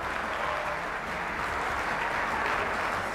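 Steady, dense applause from an audience in a school auditorium in Lahore, continuous and evenly loud from start to finish, with no voices standing out.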